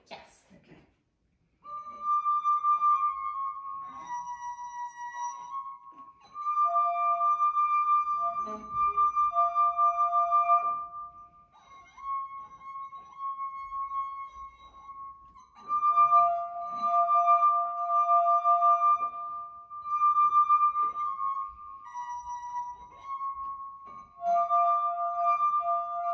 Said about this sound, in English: you're then going to have to create something called a glass harp